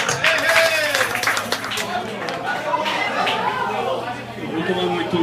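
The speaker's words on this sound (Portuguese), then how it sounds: "Uma salva de palmas para ele." Scattered audience applause for a speaker at an evening gathering, a short burst of claps over steady crowd chatter that soon dies down into murmuring voices.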